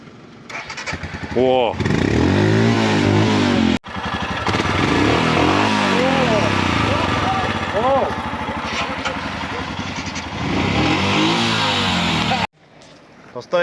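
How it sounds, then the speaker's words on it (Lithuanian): Royal Enfield Himalayan motorcycle engine starting and revving, loud and close, with rising and falling revs after a cut-out, a short restart and a brief spoken word. "Pastoviai nesiveda motociklas."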